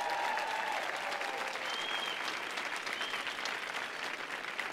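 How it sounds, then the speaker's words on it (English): Audience applause at a talk, a dense, fairly distant round of clapping that holds steady throughout, with a few faint voices and tones over it. "Can we give him a round of applause?"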